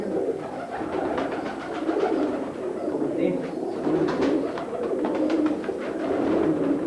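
Pigeons coo repeatedly at close range, their soft rolling calls overlapping under a voice and faint background murmur.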